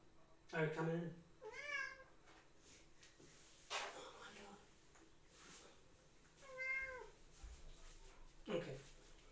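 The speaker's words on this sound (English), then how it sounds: "Now we have a second cat" Two domestic cats meow repeatedly from behind a door, with several drawn-out, rising-and-falling cries spaced across the stretch, fairly close and moderately loud, and a person talks in between.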